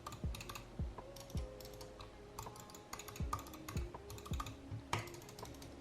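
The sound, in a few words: clicking of Logitech G Pro Superlight X mouse buttons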